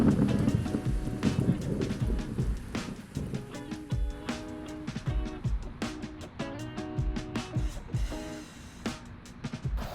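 A South Florida rain shower pours steadily outdoors, a dense wash of drops with distant rumbling underneath and faint tonal background sounds, continuous and fairly soft throughout.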